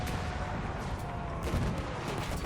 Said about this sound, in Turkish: Üstümüze mermiler, bombalar geliyor.